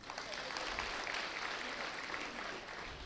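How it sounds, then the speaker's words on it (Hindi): Loud, steady group applause from a crowd at a Brahma Kumaris yoga session, sustained clapping without a break throughout. "हम पास के लिए नापास के लिए जोर से ताली बजाएंगे"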